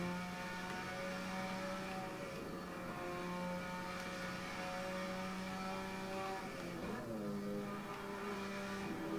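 A tuned Mazda RX7 in Assetto Corsa on PS5 drones steadily around the Nordschleife, its engine holding a buzzing harmonic tone that shifts pitch briefly near the end, with no talk over it.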